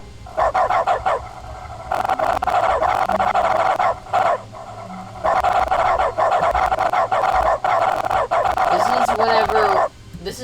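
A dog barks in dog mode of The Stanley Parable video game, long bursts of rapid yapping and bow-wows broken by short pauses, with some talk mixed in.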